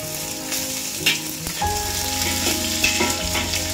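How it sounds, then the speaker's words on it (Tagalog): Pork adobo ingredients sizzle and fry steadily in a pan, a close, continuous crackle with occasional stirring scrapes and clinks. "Kailangan mong i-fry para sa ganun mabango."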